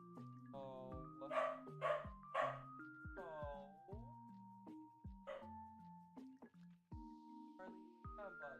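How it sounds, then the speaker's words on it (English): Indoors, a pet dog answers its owner's voice with a run of repeated barks and yips, each following a spoken phrase, close and moderately loud, alternating with talk. "he'll copy, like, each word with, like, a bark"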